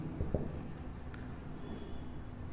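Pen or marker writing out a maths solution for linear equations by substitution, soft scratchy strokes near the start then a faint continuous scribbling under low room noise.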